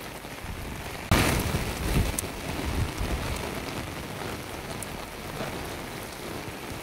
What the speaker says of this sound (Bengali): মারাত্মক বৃষ্টি পড়ছে, মারাত্মক জোর।